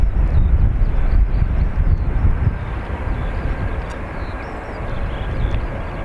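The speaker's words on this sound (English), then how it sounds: "This Ryanair is off to Leeds, Bradford." Ryanair flight 3222 departing Dublin Airport for Leeds Bradford, a broad distant engine roar with low rumble and some wind buffeting, easing slightly after the first few seconds, with no talk.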